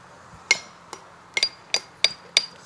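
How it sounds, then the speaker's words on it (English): A hammer strikes stone during restoration of a dry stone wall in a village, sounding as a series of sharp, ringing metallic tinks at irregular intervals, close and clear against a quiet background. "all you could hear was the tinking of the hammer"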